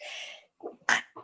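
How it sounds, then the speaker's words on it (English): A single close sneeze with a sharp, explosive burst, preceded by a short breathy inhale and followed by a brief soft sound. "sneeze."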